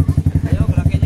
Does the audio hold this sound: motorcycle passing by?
yes